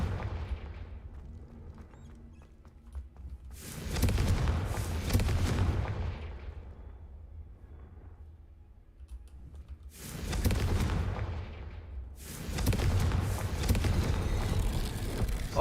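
Confringo spell blasts in a video game, two bursts of heavy booming crackle separated by quieter stretches, with sharp onsets and fizzing tails, fairly loud and without talk.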